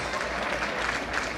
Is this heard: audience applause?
yes